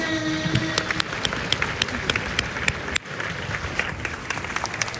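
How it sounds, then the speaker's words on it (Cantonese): A hall audience claps for kindergarten K1 children at a Christmas performance, steady applause from a crowd that stays loud and even throughout. "不如我哋送大力嘅掌聲俾 K1 小朋友先啦！"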